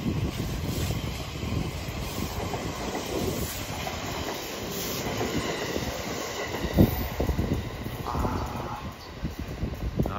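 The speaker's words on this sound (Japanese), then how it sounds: "修学旅行列車この時間通過していくんですね" A Japanese school excursion train rumbles steadily past up close, its wheels clattering rhythmically over the rails with a faint high squeal near the end.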